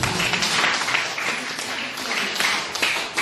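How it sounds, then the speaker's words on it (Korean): Congregation applause in a church service, a sustained dense wash of clapping at steady level throughout. "우리 하나님께 영광의 박수 올리겠습니다."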